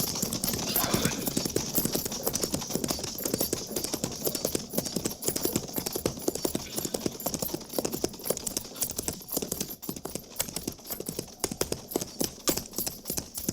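Hooves of a single approaching rider's horse clip-clop in a steady, brisk rhythm, close and prominent throughout, with the dense beats continuing unbroken.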